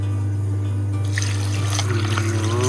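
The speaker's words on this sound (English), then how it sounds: "Rinse off all the slurry, all the mud." Water runs steadily in a sink as slurry and mud are rinsed off freshly tumbled rocks, over a constant low hum, with light splashing and no voices.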